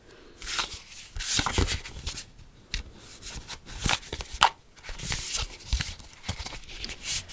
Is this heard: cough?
no